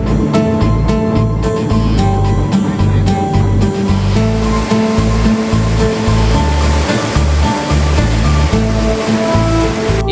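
Floodwater on the Krishna river surges through Prakasam Barrage with a loud, unbroken roaring rush, overlaid by steady music.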